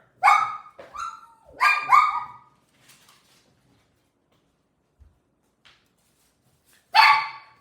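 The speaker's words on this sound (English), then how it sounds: "Here, let me get my dog real fast." A small dog barks close by: a quick burst of sharp yaps, a pause of near silence, then one more bark.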